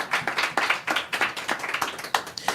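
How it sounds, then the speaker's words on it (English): Audience applause after a book talk on Chuck Brown's life and legacy, a steady crowd clapping of irregular hand claps filling the room, fairly close and continuous, with a few sharper individual claps standing out near the end. "Round of applause for our participants and all organizers for making this possible"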